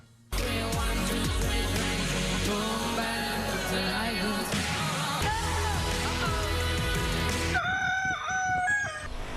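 A rooster crows loudly and close at night in a rural neighbourhood, in a long sustained call over another sound, followed by clucking and higher bird calls at the end.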